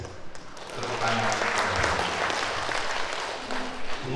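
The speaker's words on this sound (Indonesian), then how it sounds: "Tepuk tangan." Attendees at a government religious affairs office ceremony break into applause, swelling quickly into a steady, moderately loud clatter of hands with some voices underneath.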